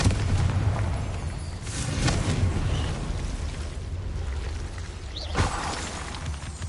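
A Confringo fire spell blasting in Hogwarts Legacy, a few muffled booms and bursts over a low game-ambience rumble, with a sharper impact near the end.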